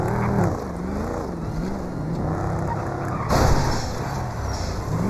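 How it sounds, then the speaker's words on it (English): Car engine in the video game GTA 5 roleplay, a steady revving drone that climbs and dips with a brief louder burst near the end, loud and continuous without talk. "Damn, that car's got some power."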